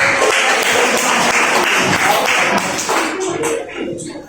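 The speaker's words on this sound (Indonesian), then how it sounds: "Oke, tepuk tangan dulu." Classroom of students clapping in a dense, continuous burst, loud and close, with some voices mixed in before it thins out toward the end.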